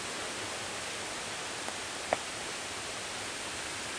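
Splashing water from High Shoals Falls in the Chattahoochee National Forest, a constant, even rushing hiss throughout, with a couple of faint brief knocks nearby.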